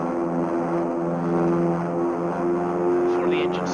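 Aircraft engines drone steadily in the Minecraft Flight Simulator game, a continuous loud hum with strong tonal layers that holds level, with some faint higher chirps near the end and no clear speech.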